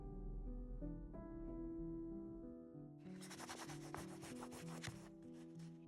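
Paint being rubbed off a bluebird painting, a steady dry scrubbing texture that thickens into brisk, loud rubbing strokes in the second half, heard alone against a sustained musical background.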